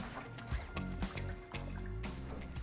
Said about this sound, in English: add about 5 chunks of frozen pineapple along with 100 millilitres of pineapple juice